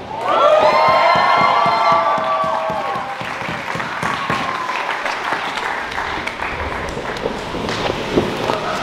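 An indoor wrestling show crowd cheers and whistles loudly, a dense roar of voices with shrill whistles at first, settling into steady applause and shouting that carries through to the end.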